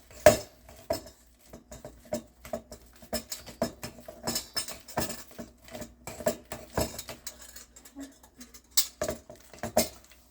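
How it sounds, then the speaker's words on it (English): Ripe bananas are mashed in a bowl for honey-sweetened banana bread, with a utensil scraping and clinking against the dish in quick, irregular taps and pats, close by and fairly quiet. "Okay, we're going to go ahead and mash them."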